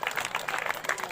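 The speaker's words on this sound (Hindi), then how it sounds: "आप लोग जोरदार ताली से अभिनंदन कीजिए, स्वागत कीजिए" Crowd applauding at a Balaji Maharaj temple consecration ceremony, quick dense clapping from many hands in short pulsing bursts, close and fairly loud with no speech over it.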